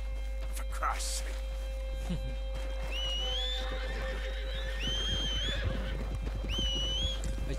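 Horse neighing and whinnying in Red Dead Redemption 2, several rising-and-falling calls repeated at a steady pace over a hum and faint hoof clip-clop.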